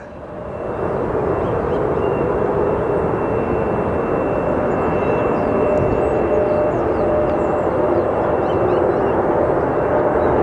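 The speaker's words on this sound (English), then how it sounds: "There's a colorful plane coming in." Colorful airplane arriving at Phoenix Sky Harbor airport, a loud sustained jet roar that swells in quickly and holds steady and close without letting up.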